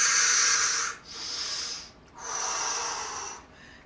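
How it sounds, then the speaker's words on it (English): Deep breathing during a chair yoga session: three long, close, breathy inhales and exhales, each a sustained airy hiss with brief pauses between them. "Deep, deep breaths."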